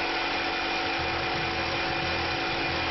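A loud, steady machine whir with a high grinding hiss, constant and close, as a Tormach PCNC 1100 CNC mill drills holes in metal without pause.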